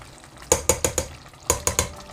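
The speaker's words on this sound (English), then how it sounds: "So just give it a good mix." Chicken biryani being stirred in a single pot with a spoon, two quick clusters of sharp scraping, clinking strokes, three or four in each, close and fairly loud with no talk.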